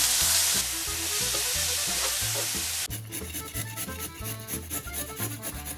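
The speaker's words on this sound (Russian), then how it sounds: "На разогретую сковороду добавим немного растительного масла и будем обжаривать лук." Onions fry in vegetable oil in a heated pan, a loud dense sizzle at first that settles into a steadier crackle with rhythmic stirring or scraping, with no voices.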